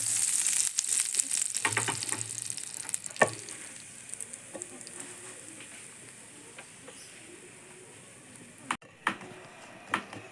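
Bread slices toasting in butter in a pan give a steady, soft sizzle throughout, broken by occasional light clicks and scrapes, with no talking.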